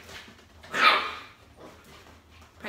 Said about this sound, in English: you were probably distracted by my puppies